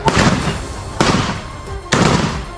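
Three sharp, loud gunshots at roughly one-second intervals, each followed by a short decaying rumble.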